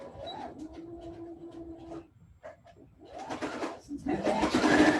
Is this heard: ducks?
no